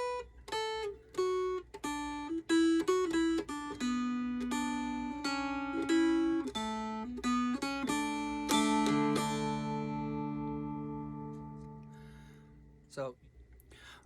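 Mountain dulcimer plucked close up, playing the folk tune The Girl I Left Behind Me as a clear melodic phrase of bright twangy notes that ends on a long ringing chord, with a faint noise as it fades.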